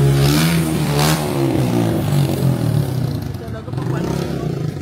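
A motorcycle engine revs hard and repeatedly, close and loud, with rattling clatter and surging pitch that dips and climbs again over a few seconds.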